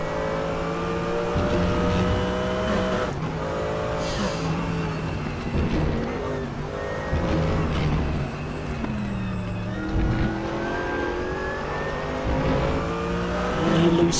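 GT3 race cars lap the Portimao circuit in the RaceRoom racing game, with engines loudly revving up and down through gear shifts, steady and continuous, with one car running close behind another.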